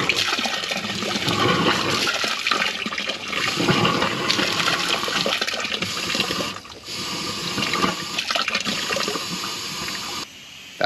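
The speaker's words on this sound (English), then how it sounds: "I've hooked up the air hose again and we're gonna push some air through the heater core" Compressed air from a hose forces coolant out through a clogged car heater core in a loud, continuous gurgling, hissing rush of liquid and air that surges and briefly drops before resuming.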